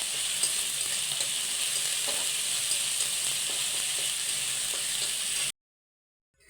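Onion and garlic paste fries in a pan with a continuous close sizzle and occasional stirring, then the sound cuts to silence for the final second.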